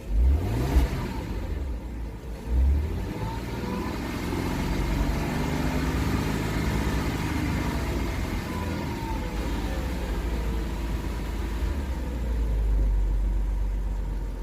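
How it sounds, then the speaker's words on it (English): A warmed-up car engine idles steadily on a rallycross parts car, most likely a 2004 model. The low, even hum stays smooth and constant, with a brief throttle blip near the start. "It's got a good idle."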